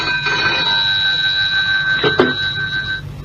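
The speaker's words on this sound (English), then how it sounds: "I couldn't sleep, and so answered at once when the phone rang by my bedside." A bedside telephone rings in a 1960s radio drama, a bright electric bell tone sounding steadily for about three seconds before cutting off with a click as it is picked up.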